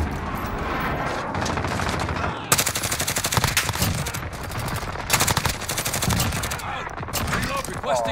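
Gunfire in Modern Warfare: loud, sustained bursts of automatic fire in rapid rattling volleys, broken by short pauses, with faint voices beneath the shots.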